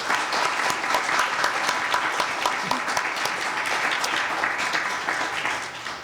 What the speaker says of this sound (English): A round of applause for our fantastic guests.